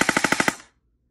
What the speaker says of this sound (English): Does your airsoft gun sound like this?